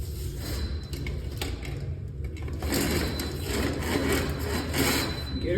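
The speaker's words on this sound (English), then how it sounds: "Drop head auger." A Ridgid K-50 drop head drain auger works at a clogged sink, giving close, grinding, scraping rubs that come in uneven bursts and grow busier halfway through.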